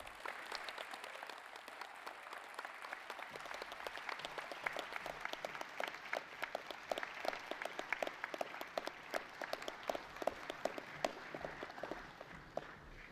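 A crowd applauds at a 2021 college commencement ceremony, sustained clapping that builds slightly and continues steadily, moderately distant in a large gathering.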